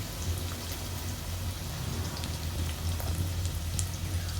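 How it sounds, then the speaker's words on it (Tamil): Chopped onions sautéing in a pan for egg rice, a continuous crackling sizzle with scattered pops, steady and close, with no talking. "இப்போ ஆனியன் போட்டாச்சு. போட்டு இப்போ இதெல்லாம் நல்லாவே வதக்கிக்கலாம்"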